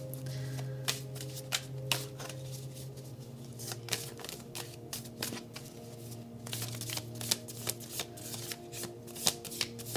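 A tarot deck is shuffled by hand in quick, papery riffles and taps, close and fairly soft, with a continuous low hum underneath throughout.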